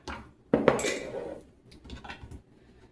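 A knife slices dill pickles on a cutting board, a sharp clack followed by a few quieter cutting taps and scrapes, close and brief.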